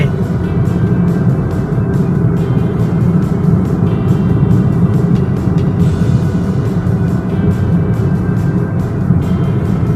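A car drives along a road in Hua Sai district, Nakhon Si Thammarat, toward the market, heard from inside as a steady engine drone and rumbling road noise with faint clicking above, continuous and unbroken.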